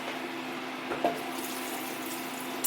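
Bean cooking liquid poured from a container while making Puerto Rican beans, a soft steady trickling stream of liquid running throughout with one small splash, close and quiet with no talking.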